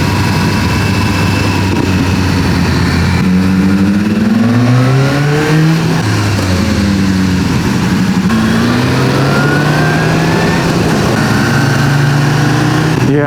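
A BMW S1000R motorcycle engine roars loudly and close while riding on an alpine pass, revving up and down through several rising and falling pitch sweeps as the rider shifts and changes direction.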